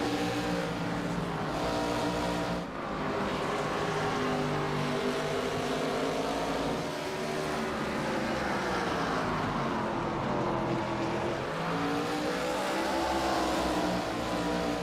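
Race cars at Southern National in the Pro Cup Series roar continuously around the track, engines revving and droning loudly for the whole stretch with rising and falling pitch as they pass.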